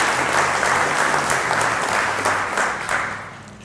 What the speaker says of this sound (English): we want to give him a round of applause